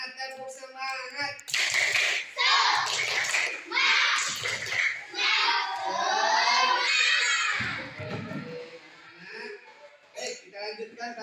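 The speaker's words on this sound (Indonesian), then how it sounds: "Sekali lagi yang semangat, tepuk semangat." Children in a classroom do a rhythmic spirit clap (tepuk semangat), bursts of group clapping mixed with chanting voices, fairly loud and close, with an adult voice speaking before and after.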